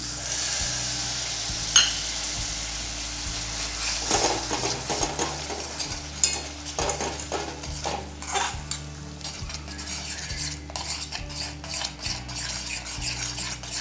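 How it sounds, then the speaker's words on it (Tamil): A spoon stirs yogurt into onion masala gravy for baby onion sabji in a pan, scraping and clinking against the metal with a soft sizzle underneath, in irregular strokes close by. "ஒரு கொதி வர வரைக்கும் நல்லா விடாமல் கிளறிடுங்க"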